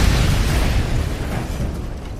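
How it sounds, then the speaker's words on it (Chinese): A bomb hidden inside a music box explodes in a supermarket storeroom in a mystery drama, a loud rumbling roar already under way that slowly fades over about two seconds, with no voices. "八音盒发生了爆炸"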